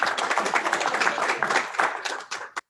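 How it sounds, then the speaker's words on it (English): A round of applause at a national convention installation ceremony in Jersey City for John Saladino. Brisk, fairly close clapping from a modest crowd ends in a last scattered clap. "A round of applause for John Saladino."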